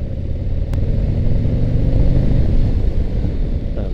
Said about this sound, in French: à l'approche des 3000 tours, ce moteur est très démonstratif